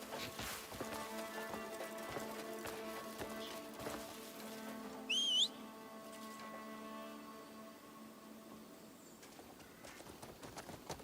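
Horse hooves in the video game Crimson Desert clop in a steady, quick rhythm at low volume, with a short high-pitched whinny-like squeal partway through.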